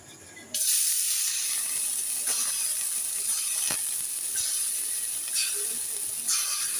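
Rice-flour pitha batter poured into a hot, lightly oiled pan, a loud steady hiss that bursts in suddenly and keeps sizzling close up, with a few faint clicks and no talking.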